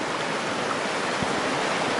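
Water rushes steadily at Banderishko lake in the Pirin mountains, a constant close hiss of flowing water with no talk.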